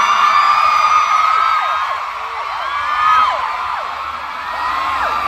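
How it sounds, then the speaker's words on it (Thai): A large concert crowd at a Bangkok arena screams and whoops during a soundcheck, a dense sustained wall of high-pitched shrieks that swells and dips without a break. "อยากกรี๊ดอะไรก็เชิญเลยครับ"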